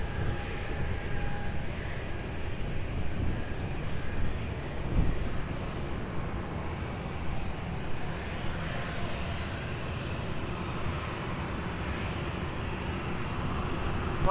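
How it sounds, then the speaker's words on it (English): A jet airliner taking off from runway 20 at Lisbon Airport, a steady broadband engine roar holding at a constant level for the whole stretch, fairly distant, with no voices. "And they take off at Portugal 836."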